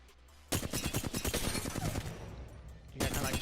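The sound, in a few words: gunfire in the video game Apex Legends warmup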